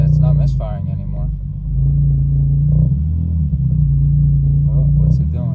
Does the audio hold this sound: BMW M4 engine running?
yes